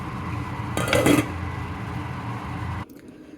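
A metal lid clatters onto a cooking pot of simmering lentils with a short, bright clang and rattle, followed by a low steady hum of cooking before an abrupt stop.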